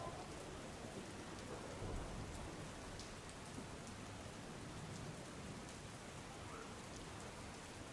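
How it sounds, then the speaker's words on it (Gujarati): Heavy, continuous rain falls in Gujarat as a steady, even hiss of downpour that stays faint and distant throughout, with no voices. "જે રીતે અવિરત વરસાદ વરસી રહ્યું છે રાજ્યમાં"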